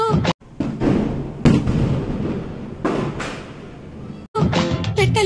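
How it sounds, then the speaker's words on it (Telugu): Firecrackers and rockets burst during a festival: several loud, sharp bangs come at irregular intervals over a dense, continuous crackle and roar of nearby celebration. "బాంబులు కాల్వద్దంటే ఎవరు ఆగిండ్రు. టప్పా టప్పా పేలుస్తున్నారు."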